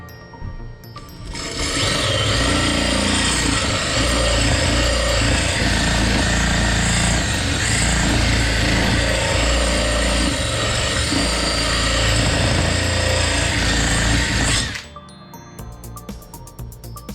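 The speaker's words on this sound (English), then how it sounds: "I'm gonna just use this little grinding tip" A drill fitted with a small grinding tip sharpens a lawn mower blade, giving a loud, steady high-pitched whine with gritty metal grinding that runs continuously for about thirteen seconds before stopping abruptly.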